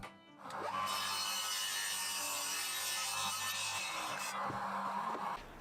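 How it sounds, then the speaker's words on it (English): An electric mitre saw cuts MDF panels to length, making a single sustained, loud, whining bite through the board for about four seconds before spinning down, heard alone with no voices. "I cut them to length at the mitre saw."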